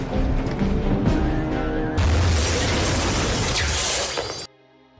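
A film explosion destroys an entire building, a sudden loud crash of blast and shattering debris that roars for a couple of seconds and then cuts off abruptly into near silence.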